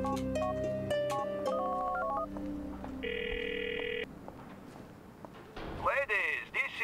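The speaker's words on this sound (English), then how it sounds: "Good, I'll call you right now." Phone dialing a call in Grand Theft Auto IV: steady electronic keypad tones and a held two-tone beep ring out over layered in-game music, followed by brief clattering effects near the end.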